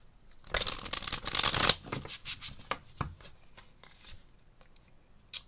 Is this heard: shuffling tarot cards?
yes